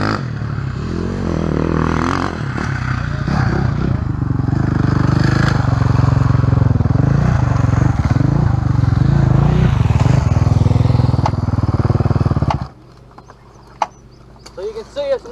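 Motorcycle engine during braking and turning training, a loud steady roar with throttle surges and rattling for about twelve seconds, then cutting abruptly to near quiet with a few faint knocks.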